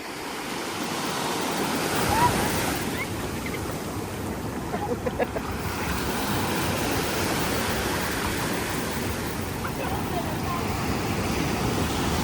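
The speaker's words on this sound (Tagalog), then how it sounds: "Laki ng alon." Large ocean waves roar in a steady broadband wash, with faint voices mixed in underneath.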